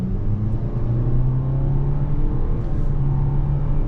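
A 2025 Nissan Kicks SR with a CVT accelerates, its engine holding a steady droning rumble with a constant tone heard from inside the cabin, no voices over it.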